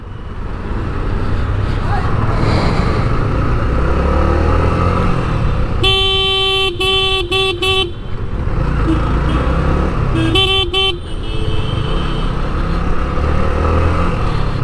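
Dense road traffic on Airport Road heard from a motorcycle stuck in a jam: a steady loud engine and road rumble throughout, broken by two bursts of repeated car horn honks, the first several blasts in a row, the second shorter, with a voice talking over it.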